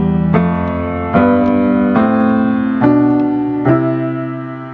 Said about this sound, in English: if you just play tenths in the scale of C, they would sound like this